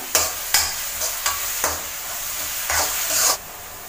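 Onions sautéing in a pan for a North Indian street-style chicken curry, a steady sizzle broken by several sharp scraping stirs, close and moderately loud, with no voices.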